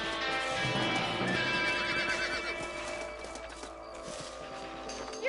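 A horse in Red Dead Redemption whinnies loudly and at length, the neigh rising and trembling before fading, with a faint thud of hooves near the end.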